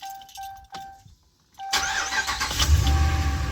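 A Dodge Hemi car engine, just fitted with new spark plugs and coils, cranks after chimes and clicks, then fires up and settles into a loud, steady idle, with no talking.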